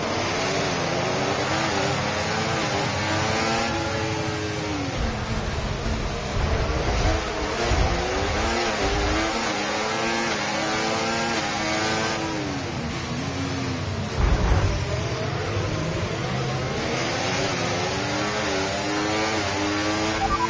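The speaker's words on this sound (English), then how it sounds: "feed in the throttle, let's build the revs" A high-pitched Formula 1 car engine in the F1 24 video game revs continuously, its pitch climbing and dropping in repeated sweeps, loud and close throughout with no talking.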